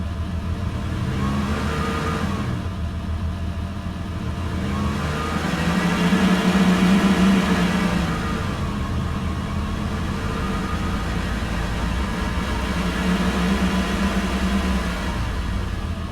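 A synthesized car engine from Krotos Igniter in Pro Tools revs in long, smooth swells, rising and falling gradually over a continuous mid-pitched hum, loud and steady with no talking.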